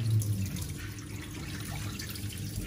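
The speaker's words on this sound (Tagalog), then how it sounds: "pwede ko nang lagyan ng malinis na tubig" Clean water poured into washed rice for cooking, a steady low rushing and trickling flow heard up close without any talking.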